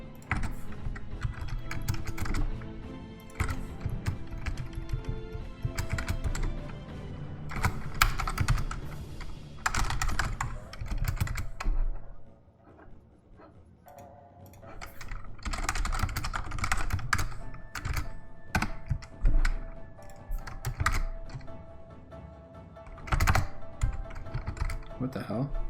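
Computer keyboard typing in dense, rapid bursts of clicky keystrokes, close and loud, with a short lull midway before the rattling clatter resumes.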